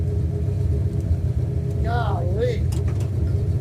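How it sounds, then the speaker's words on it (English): An old project car, parked since 1999, has its engine running with the throttle stuck open. It gives a loud, constant low rumble that stays steady throughout, while a person speaks briefly over it. "The throttle's sticking open again."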